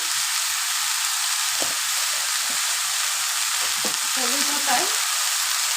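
Bottle gourd frying in oil in a pan before pumpkin is added, a dense continuous hissing sizzle close up, with a few soft stirring knocks and a brief scraping squeal near the end, no speech.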